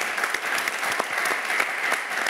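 Church congregation clapping and acclaiming God, a loud, dense burst of many hands applauding together, steady and close, with no talk over it.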